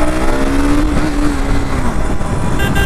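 A 2024 KTM Duke 250 motorcycle pulls hard under acceleration, its engine note loud and close with a rising tone that settles as it winds on, a steady roar with no talk.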